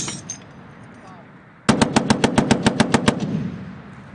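An M2 .50 caliber machine gun fires a short burst of about a dozen heavy, evenly spaced shots, loud and close, after a quieter stretch with faint background noise.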